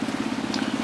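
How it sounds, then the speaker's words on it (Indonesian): Rain falling outdoors as a steady, close wash of hiss with a low, even pulsing hum beneath it, no voices. "Ini sambil hujan seperti ini."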